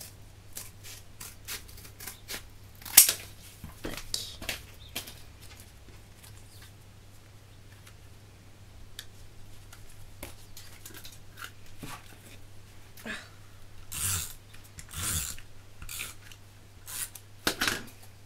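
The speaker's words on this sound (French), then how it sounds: "Je vais faire couper le carton, même si c'est pas droit, c'est pas grave." Scissors snipping through cardboard during paper crafting, scattered crisp cuts spread unevenly across the stretch, close and fairly quiet, with louder clusters of snips toward the end; no talking.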